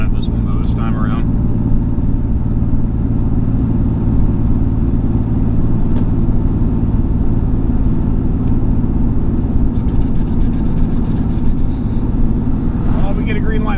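A truck's engine labors with a deep, steady rumble while towing a Bandit 20XP track chipper, loud and constant inside the cab, with someone talking over it.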